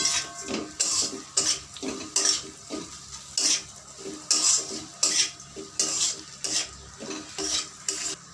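Capsicum pickle stirred with cumin, coriander, salt and sugar, a rhythmic series of spoon scrapes and clinks against the pot, roughly one every half second, close by with no talking.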